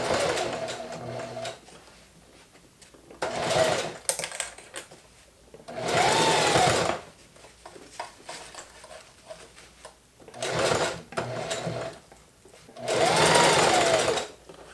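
A Singer sewing machine, run with its presser foot left up, stitches a row in four loud bursts of whirring needle action separated by quiet pauses.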